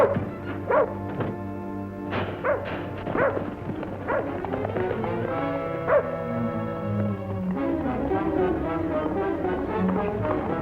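A dog barks repeatedly and yips amid excited shouting, with music playing underneath, in a vintage western television scene.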